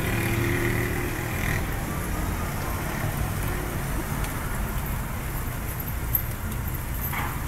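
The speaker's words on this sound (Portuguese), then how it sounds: "E a chuva chegou devagarinho, de mansinho." Light evening drizzle falling on wet ground in São Vicente, a steady, soft hiss of rain patter throughout, with faint distant traffic underneath and no voices.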